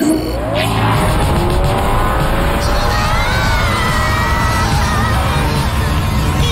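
Cartoon spaceship brakes screeching in a loud, sustained squeal with a high whine at the start, followed by a long rumbling skid that carries to the end over a dense roar.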